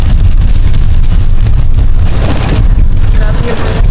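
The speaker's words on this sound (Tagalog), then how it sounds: "Grabe yung lakas ng ulan." Heavy rain pounds steadily around a vehicle in a loud, dense wash of noise with a deep rumble underneath, and faint voices sit beneath it.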